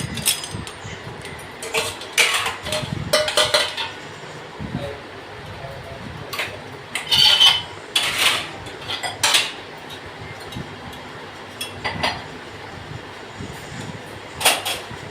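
Washed kitchen dishes, steel utensils and cutlery are put away with repeated clinks, clatters and scrapes, sharp metallic knocks coming in irregular bursts close by over a low background hum.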